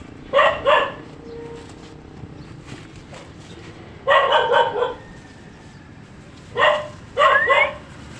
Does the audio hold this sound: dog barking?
yes